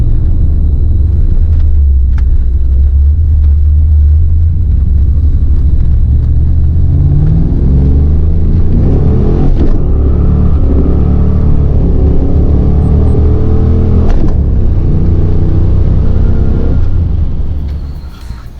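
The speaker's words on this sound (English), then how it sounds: "I'll do a quick little pull for you guys just to kind of show you the car runs good." Foxbody Ford Mustang pulling hard from inside the car, a loud low engine rumble rising in pitch through the revs, then easing off near the end.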